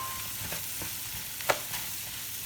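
Rice frying in a pan with onion and green bell pepper, a faint steady sizzle with occasional soft scrapes of stirring and one sharper clink midway.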